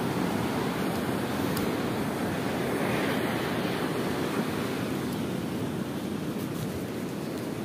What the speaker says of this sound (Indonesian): Wah, sangat halus sekali ombaknya